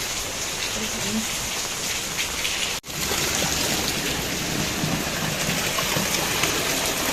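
Heavy monsoon rain pours steadily onto surfaces with a dense, unbroken hiss, broken only by a brief dip near the middle. Faint voices can be heard under the downpour.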